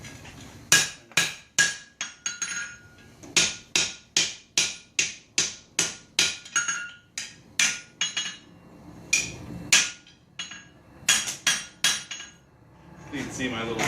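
Rhythmic hammer blows on hot steel while forging a tomahawk, over twenty sharp ringing strikes in quick runs with short pauses, close and clear, with no talk.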